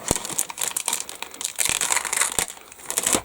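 Stapled plastic bags from a Meng 1/32 Fokker Dr.1 model kit being cut open, close crinkling and rustling of plastic with quick snips and handling clicks, busy and irregular, no speech.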